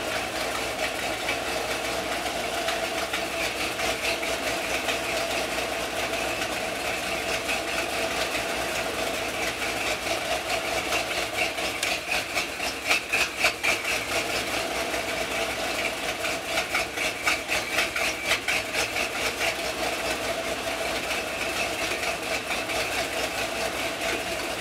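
A Ford 460 EFI V8 idles roughly, a steady mid-pitched engine drone with a slightly uneven, pulsing beat running unbroken for the whole stretch, close and fairly loud.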